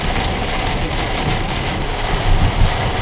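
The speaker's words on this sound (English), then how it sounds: "The rain continues and continues to get worse." Heavy rain pours down in a dense, loud roar, steady and unbroken, with a deep rumbling undertone beneath the downpour.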